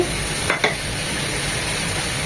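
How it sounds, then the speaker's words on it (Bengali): Chicken fried rice ingredients with chopped capsicum frying in a pan make a loud, steady sizzle, broken near the start by two quick scraping clatters of a spoon against the pan, with no speech. "এটাকেও দশ বিশ সেকেন্ডের মতো একটু ভেজে নেব"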